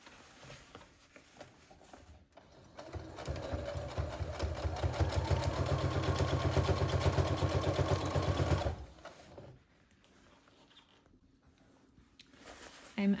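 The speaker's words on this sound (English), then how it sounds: "then I can top stitch this gap shut" A sewing machine top stitches a gap shut on rain pants, starting after a pause with a fast, rapid stitching rattle that runs steadily for about six seconds before stopping, leaving quiet handling noise.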